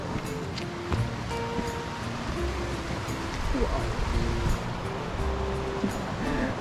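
Waves wash steadily onto a beach in a Moroccan valley, a broad continuous surf noise with some wind, and faint voices in the background.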